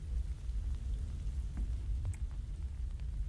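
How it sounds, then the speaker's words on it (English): Rain in a Death Note video game, a soft, continuous patter with low rumbling underneath, heard at a distance and fairly quiet, with no voices. "Sounds like there's rain somewhere."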